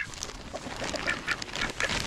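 A flock of ducks on a homestead quack and honk busily and close while being fed treats, a continuous overlapping chorus heard without talk.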